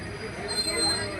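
A passenger train running on its rails, a steady close rumble with faint high wheel squeal over it, continuous and unbroken.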